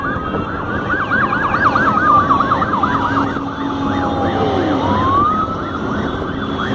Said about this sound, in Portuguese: Olha aí os motoqueiros da polícia aí agora.